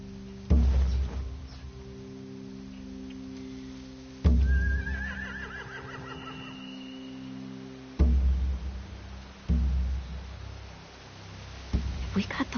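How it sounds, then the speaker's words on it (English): Horses neigh and whinny in The Walking Dead: The Final Season game, with a few loud snorting, stamping bursts over a steady low hum and one drawn-out whinny, while quiet voices talk. "They have horses."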